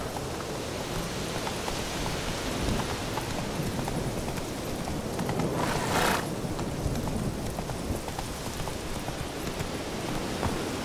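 Roach, a horse in The Witcher 3, gallops with steady rapid hoofbeats under a constant rain-like hiss, fairly faint and alone, with no voices.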